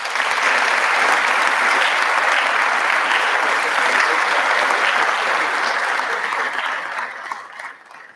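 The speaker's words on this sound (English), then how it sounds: "Let's give him a round of applause." Sustained applause from a large audience at a college lecture hall event, steady dense clapping filling the room for about seven seconds before tapering off at the end.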